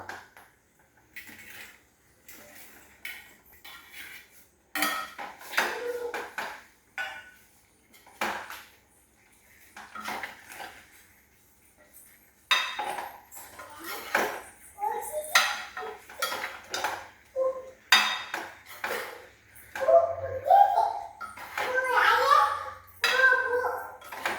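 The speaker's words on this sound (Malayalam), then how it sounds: "വറുത്ത് വെച്ചിരിക്കുന്ന മീനും കൂടെ ചേർത്ത് നന്നായിട്ട് ഇളക്കുക" Repeated scraping and clinking of a spoon against a metal pan as fried tuna is stirred into pickle, in uneven bursts with pauses; people talk faintly in the background at times.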